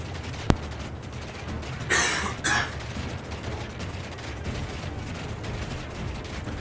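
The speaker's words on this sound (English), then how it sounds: "Sorry about that cough if it went through to the video." A single quick cough in two short bursts, close to the microphone, preceded by a sharp click and followed by quiet ambient noise.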